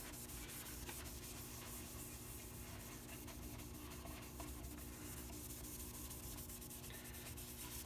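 A nitro lacquer finish is rubbed out by hand with compound, giving a continuous close, gritty rubbing that runs evenly throughout.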